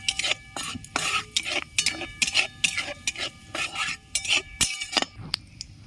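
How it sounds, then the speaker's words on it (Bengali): Dry red chillies and nigella seeds temper in hot oil in a wok, with repeated scraping and stirring strokes in an irregular rhythm over a soft background crackle. The sound is close and fairly loud, and no one speaks. "কড়াইয়ের তেল গরম হয়ে গেছে শুকনো লঙ্কা ফোড়ন দিয়ে দিচ্ছি কালো জিরে দিয়ে দিচ্ছি"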